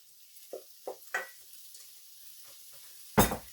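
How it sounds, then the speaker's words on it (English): Bacon sizzles and renders in a frying pan, a faint steady crackle beneath a few spoon scrapes and stirs, with a louder clatter of the pan near the end. "Bacon is rendering."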